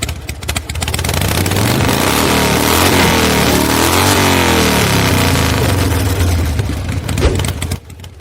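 Motorbike engine pulling up close and loud, a steady mid-pitched drone with revving swells that holds for several seconds before cutting off near the end.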